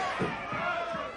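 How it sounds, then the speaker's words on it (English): A wrestling arena crowd roars in a sustained, loud wall of cheering and screaming, with a commentator's voice running over it. "the crowd going wild here"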